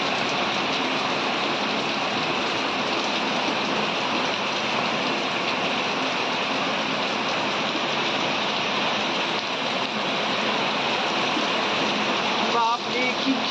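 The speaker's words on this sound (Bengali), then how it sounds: "মুষলধারে বৃষ্টি নেমে গেল" Heavy torrential rain pours down outside a village home, a dense, steady hiss and roar that stays even and loud from start to finish.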